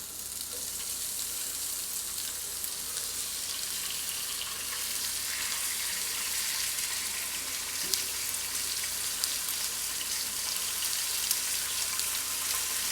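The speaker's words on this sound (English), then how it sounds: "First thing I want to do is heat up some oil in the pan." Oil heating in a frying pan for a cowgirl chicken salad, a steady bright sizzle and crackle that runs continuously at a moderate level, with occasional small pops and no talking.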